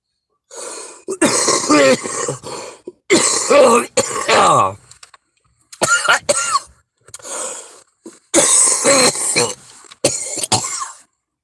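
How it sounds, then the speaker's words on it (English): A person coughs and clears their throat in several harsh, close bursts separated by short pauses. "I really expected that to make me cough. It usually does."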